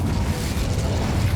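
Incendio fire spell cast in Hogwarts Legacy, a short, steady whooshing rush of flame that is loud and fills the whole moment without any talking.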